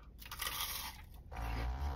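Biting into a crispy cinnamon-dusted fried dessert from a taco shop gives a close, crunchy chew, with a sharper crunch burst in the second half and no talking.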